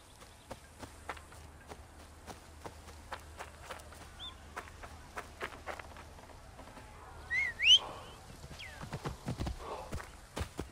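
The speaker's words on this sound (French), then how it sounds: "On va y aller à cheval, ça sera plus court." Horse hooves clip-clopping in Assassin's Creed Origins, set in ancient Egypt during the Curses of the Pharaohs expansion. The steps come in a steady, fairly faint rhythm, with a brief whistle and louder movement near the end.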